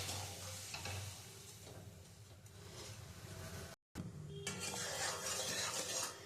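Sugar syrup for raw mango murabba with jaggery added is stirred in a pan, giving a close, continuous scraping and faint sizzle with utensil clinks and one brief dropout.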